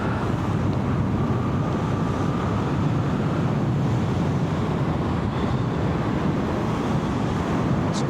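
Moto Guzzi V7 Special motorcycle cruising steadily at around 60 mph on an open road, heard as a constant roar dominated by rushing wind buffeting over the microphone, with the engine drone buried beneath it.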